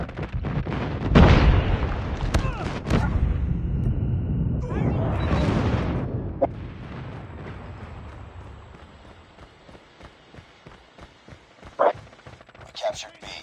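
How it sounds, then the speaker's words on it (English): Airstrike explosions in a shooter video game, deep booming blasts and bursts of rapid gunfire that come close together at first and then thin out into scattered, fainter shots. "Friendly airstrike incoming."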